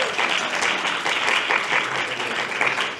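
A live audience cheers and applauds at a storytelling event, a dense, steady wash of clapping and whoops that fills the room for about three seconds without pause.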